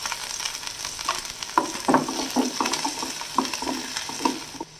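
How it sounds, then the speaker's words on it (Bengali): Carrots, beans, peas and green chilies fry together in a pan for murir polao, sizzling loudly and continuously while a utensil stirs them with repeated scraping knocks at an uneven rhythm. "গাজর, বিনস, মটরশুঁটি আর কাঁচা লঙ্কা, এই সবজিগুলোকে একসঙ্গে ভেজে নেব।"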